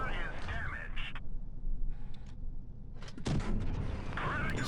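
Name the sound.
tank cannon shots in video game World of Tanks Blitz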